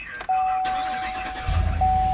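A 2017 GMC Yukon Denali's 6.2-liter V8 cranks and catches, then settles into a deep, steady idle rumble with a faint electronic chime tone running through it.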